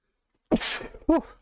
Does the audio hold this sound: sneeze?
yes